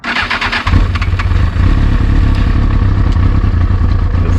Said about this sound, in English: if I try to start my bike with my choke all the way up like this, this is what happens